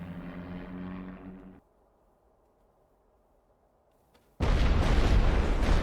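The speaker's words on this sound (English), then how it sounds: "So they've already started shelling me." Artillery shelling in The Great War: Western Front, with a rumbling engine-like drone that cuts out, then a sudden loud, sustained roaring blast of explosions nearby.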